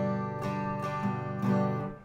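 An acoustic guitar is strummed with a medium pick in three ringing strokes, fuller and bolder in the low end, each chord sustaining between strums, close and with no talking.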